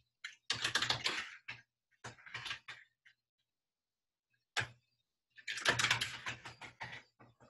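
Quick bursts of keystrokes on a computer keyboard while entering login details, clicking in short clusters separated by pauses, close and clear in a quiet room.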